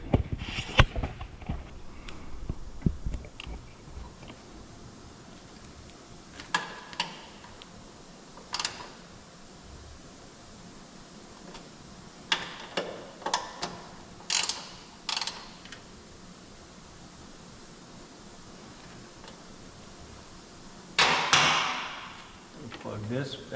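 Rear spark plugs being tightened on a 2022 Harley-Davidson Road Glide, heard as scattered metallic ratchet clicks and tool clatter, spaced irregularly over a quiet workshop background, with a louder burst near the end.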